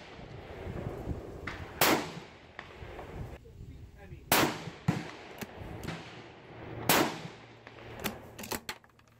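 A Ruger American Ranch rifle in 5.56 fitted with a Breek Arms blast diverter on a two-port muzzle compensator fires about four sharp, spaced shots outdoors. Each crack is loud and close, with a brief ring-off and faint background hiss between shots.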